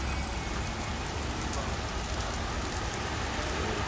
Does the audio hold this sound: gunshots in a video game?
no